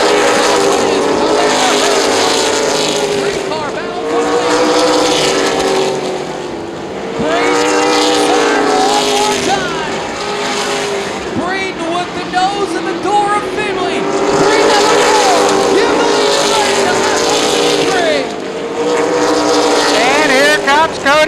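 Stock race cars of the ARCA/CRA Super Series scream around Columbus Motor Speedway in a loud, continuous pack, engine pitch rising and falling in waves as they pass, with a commentator talking over the roar.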